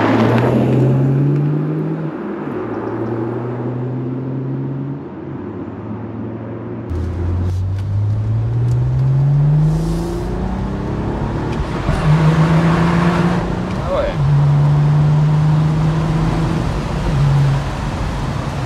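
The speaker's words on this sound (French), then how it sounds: "Je vais te proposer une petite accélération parce que je vois que ça chante plutôt bien." A BMW 1M Cabriolet E88 accelerates through several gears, its engine note climbing repeatedly with short drops at each shift, loud and close with road and wind noise around it and no talk.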